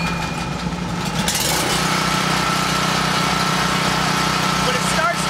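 A small gasoline engine on a water tanker is pull-started with the choke out, catching after a brief rattle and settling into a steady close idle.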